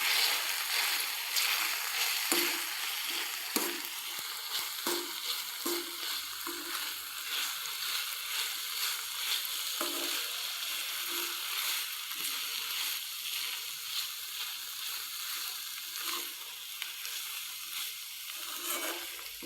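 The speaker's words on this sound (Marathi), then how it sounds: "तुम्ही बघू शकता आपण याला छानपैकी असं परतवून घेत आहोत." Ground spice paste for fenugreek thecha sautés in a pan with a steady broadband sizzle, broken by repeated soft scrapes of stirring, close and continuous with no talk.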